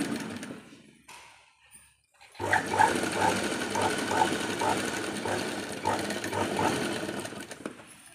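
A sewing machine starts after a short quiet gap and then runs steadily, stitching a double seam in a continuous close whir with some clicking.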